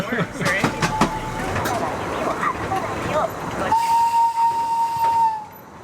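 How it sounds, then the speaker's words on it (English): A steady hiss of fake steam from the top of a model train, with a long sustained whistle-like tone starting mid-clip, loud and close, after a stretch of mixed talk and background noise. "they have built it so it's like fake steam comes out of the top"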